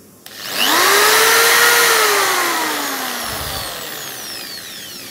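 An iBell ED06-91 400W electric drill runs up to a loud, close whine, its pitch rising and then sliding down slowly as the speed is adjusted, before the motor winds down.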